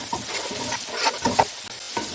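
Peas sizzle in a hot pan while being stirred, a continuous frying hiss broken by quick scraping stirs, close and fairly loud, with no voices.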